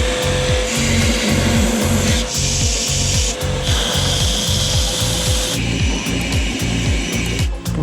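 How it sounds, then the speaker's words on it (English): A handmade knife being ground and shaped by hand, with steady rhythmic rasping strokes repeating quickly and evenly, close and loud, with no talking. "You're just going to do a bit of grinding, have a feel, grind, feel."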